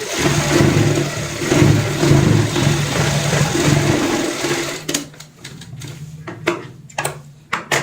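A sewing machine stitches a heart-shaped cushion cover in a steady mechanical whir for about five seconds, then breaks into short, choppy bursts of stitching with pauses between them.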